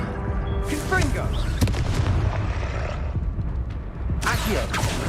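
Confringo fire spell explosions in the video game Hogwarts Legacy: repeated heavy booms and blasts over constant battle noise, with sharper bursts near the start and end.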